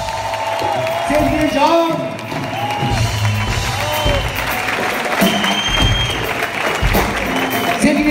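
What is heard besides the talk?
audience applause for the orchestra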